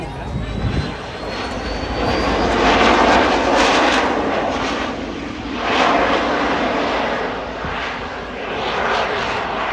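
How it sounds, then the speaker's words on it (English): A jet aircraft engine roars steadily overhead at an air show, swelling and fading as it passes at a distance, with a faint voice murmuring underneath. "wants to go and play with that jet up there"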